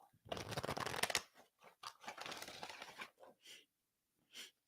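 Oracle cards being shuffled by hand, a dense burst of riffling and slapping followed by shorter scattered flicks, close and fairly quiet, with a voice talking in between.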